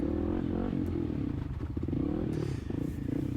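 A Kawasaki KLX300 dual sport motorcycle rides through a harescramble course, its single-cylinder engine droning steadily close up with small rises in revs and occasional clattering from the trail.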